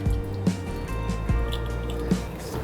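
Wet, squishy dripping as thick tamarind pulp is pressed through a sieve, with a few distinct drips and squelches spaced out over a low hum.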